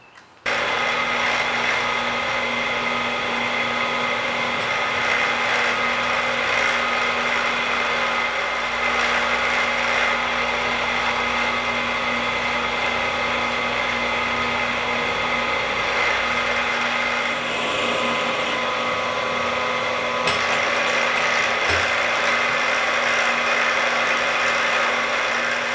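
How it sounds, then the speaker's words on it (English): A drill bores holes through the handle of a neck knife, a continuous steady motor whine with grinding bite into the material running for a long stretch, close and uniform in loudness, no talk. "Before I grind though, I want to drill the holes in the handle."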